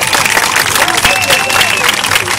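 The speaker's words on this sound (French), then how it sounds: "Nous applaudons bien fort, mon pays." A comedy troupe's audience claps during a live show, a short burst of fairly loud, dense applause with voices and some tonal sounds underneath.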